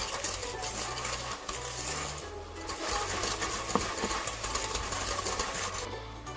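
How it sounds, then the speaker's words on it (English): Sugar, butter and oil are mixed for brownies, most likely with an electric mixer, producing a steady whirring drone with faint rhythmic scraping for several seconds and no voices. "You're going to mix your sugar and your butter really, really well until it's all combined."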